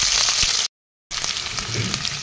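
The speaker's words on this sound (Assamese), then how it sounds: "এক কেৰাহীটো তেল গৰম হ'বলৈ দিছো তেলখিনিও গৰম হৈছে ইয়াতে এতিয়া পিয়াজখিনি" Chopped onions go into hot oil in a wok and crackle with a steady, close sizzle, broken by a short silent gap before the frying hiss resumes.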